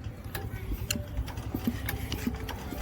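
A used walking tractor engine is turned over by hand to check for gear noise, producing a close, rhythmic run of mechanical clicks and knocks over a low rumble.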